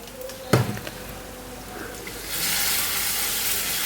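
Hot mustard seed and curry leaf tempering poured into kalan curry, with a sharp clatter and then a steady, fairly loud sizzle that starts midway and holds to the end.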